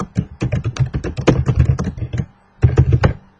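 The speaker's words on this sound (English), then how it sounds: "Click at the top of your article and type the headline." Headline being typed on a PC keyboard: a dense run of close, crisp key taps for about two seconds, a brief pause, then another quick burst of typing, with no talking.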